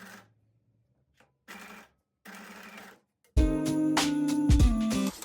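Short bursts of a sewing machine stitching fabric for mini scrunchies start and stop, then a loud continuous whir of stitching runs close up.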